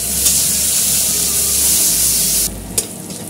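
Onions drop into hot fish oil and set off a loud, steady, close sizzle, a dense hiss that eases a little partway through, with no one speaking.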